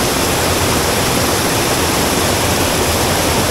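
River water flowing near its source by a small hut, a steady, loud, broadband rush with no breaks and no voices.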